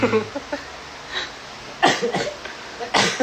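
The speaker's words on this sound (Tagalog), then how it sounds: "Kunwari inuubo." A few forced coughs in two short bursts, the first pair close together and another a second later, preceded by faint murmuring.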